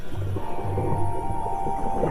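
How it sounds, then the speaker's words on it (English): Underwater, high-pitched squeals, clicks and whistling calls of marine animals hunting sardines in open ocean over a low rumble, with short repeated tonal bursts. "You could hear their excitement as they communicated to each other in their language of clicks and squeals"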